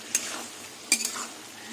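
Curry is stir-fried in a pan, soft sizzling broken by two sharp scrapes of a spoon against metal, quiet and close, with no talking.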